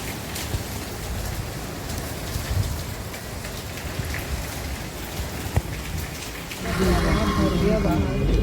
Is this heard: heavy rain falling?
yes